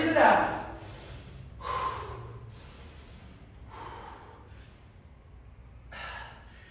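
Heavy breathing after a HIIT workout round: several loud, sharp gasps and snorting exhales come close up, with quieter panting breaths between them.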